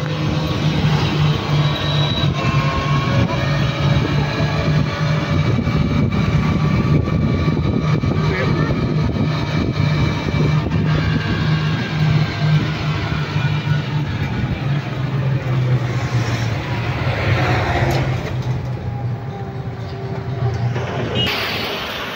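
An electric bus driving along with a steady low hum and rumble that runs through the whole stretch, while people talk nearby over the vehicle noise.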